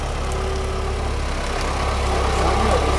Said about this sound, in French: trop marrant, un tracteur trial.